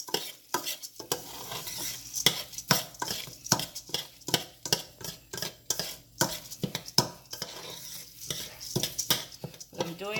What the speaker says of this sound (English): I'm stirring it. If you can hear it start to like sizzle because I have it on high